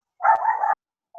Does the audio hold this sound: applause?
no